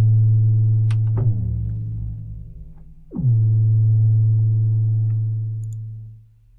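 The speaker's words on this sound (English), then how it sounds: "Just to give you an idea of what some of the sounds are like, here's a bass sound." Synth bass patch from the Helium rack extension for Reason, a loud sustained low tone with two plucked attacks that bend down in pitch, held steadily for several seconds before fading out, no talk.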